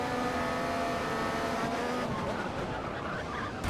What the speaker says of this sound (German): Da bin ich ins Rutschen gekommen.